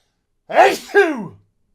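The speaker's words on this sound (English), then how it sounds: "I'm going to sneeze" A single sneeze, a sharp intake followed by a burst, close and fairly loud, with silence around it.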